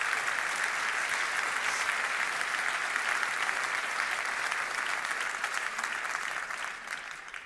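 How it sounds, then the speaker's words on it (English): Sustained, even applause from a university anniversary ceremony audience honouring two new professors, dense and continuous before tapering slightly at the end. "A big applause."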